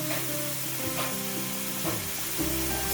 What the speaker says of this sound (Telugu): పచ్చి వాసన పోయేలాగా వేయించుకుంటూ ఉండాలి.